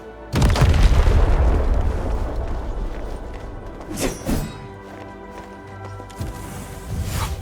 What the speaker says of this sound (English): I give that explosion a 10 out of 10.